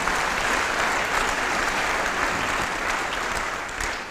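A church congregation applauds, a dense, even wash of many hands clapping that holds steady at full strength for several seconds, with no one speaking over it.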